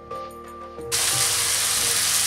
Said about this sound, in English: So after frying this for about 2 minutes, you're gonna finally add your rice.